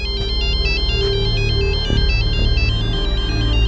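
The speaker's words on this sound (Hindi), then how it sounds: "साहब ये देखिए, उसी का फोन है सर" A mobile phone ringtone plays loudly on its own as a steady, repeating electronic melody, with a low musical backing underneath and no talking.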